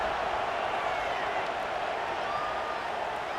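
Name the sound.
stadium crowd buzzing after a touchdown, College Football 26 video game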